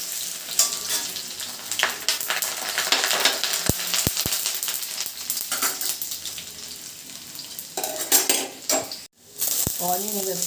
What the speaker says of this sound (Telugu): గార్లిక్ వేసేసుకున్నాను.